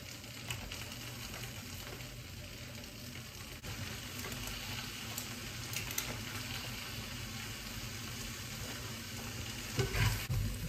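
Spinach frying in a pan while being stirred, a steady close sizzle with scraping stir movements throughout and a slightly louder burst near the end.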